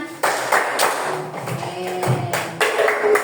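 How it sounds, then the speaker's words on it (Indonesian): Children in a classroom clap their hands along to a song, a series of sharp claps and taps in an uneven rhythm, close and moderately loud. "Kalau kau suka hati tepuk tangan"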